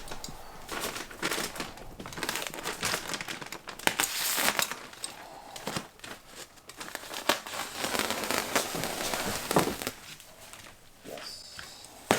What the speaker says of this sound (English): So now it's time to open this bag.